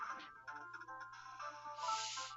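Electronic telephone ringtone in the Ghost Trick video game, a warbling tonal ring repeating in short bursts over faint background music, loud and close, with no talking.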